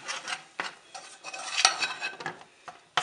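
Flour being stirred into melting butter in a pan over medium heat, heard as soft scraping and rasping strokes of a utensil against the pan with a few sharper clinks, close and fairly quiet, no talk.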